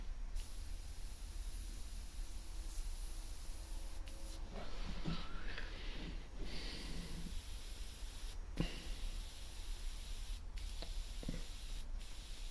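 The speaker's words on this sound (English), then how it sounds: "with all airbrushing, it's just building and building and building slowly" Airbrush spraying paint onto a drawing of a face, a steady close hiss running throughout with faint shifts in intensity and light tapping and handling noises over it.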